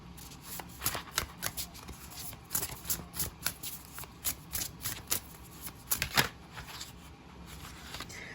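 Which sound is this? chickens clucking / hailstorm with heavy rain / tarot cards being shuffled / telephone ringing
tarot cards being shuffled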